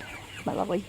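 Chickens in a backyard garden cluck in a brief burst of two or three close calls, with a voice speaking over them.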